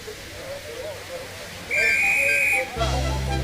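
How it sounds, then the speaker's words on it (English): A railway guard's sharp, steady whistle blast rings out for about a second over a low rumbling background, followed by a deep engine-like hum as a steam engine starts away. "The guard blew his whistle, and Edward started away."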